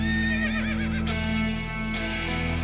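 A horse whinnies loudly and close, a single long wavering neigh rising and falling over a couple of seconds, with a low steady background hum.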